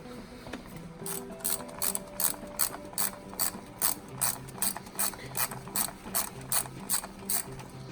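A ratchet wrench clicks steadily while backing out a bolt on a car's spark plug coil, with quick metallic ticks arriving in short regular bursts, close and fairly loud.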